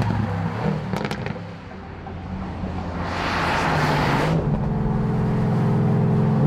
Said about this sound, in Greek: Σκασίματα από την εξάτμιση.